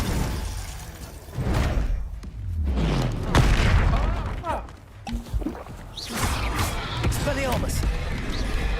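Spells cast in the video game Hogwarts Legacy, including the icy Glacius: a run of booming magical blasts and brittle shattering bursts, loud and close, with a voice talking over the action.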